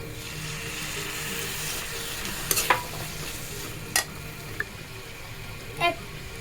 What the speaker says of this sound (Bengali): একটু সয়া সস দিয়ে দিব এখন আমি